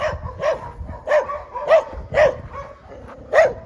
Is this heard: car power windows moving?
no